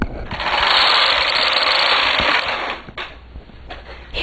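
A knitting machine carriage sweeps across one row of a full-needle rib cast-on with yarn between the beds: a loud, steady mechanical rasping whir for about two seconds, then a few lighter clicks and clacks.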